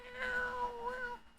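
A cat gives a single drawn-out meow, close and fairly loud, with a wavering pitch over about a second before it trails off.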